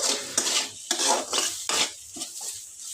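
Beetroot fry is stirred in a pan, a spoon scraping and clinking against metal in several uneven strokes over a light sizzle, close up with no voices.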